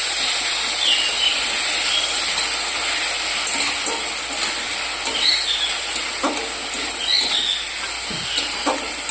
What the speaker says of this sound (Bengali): বাটা মশলাগুলো দিয়ে দিলাম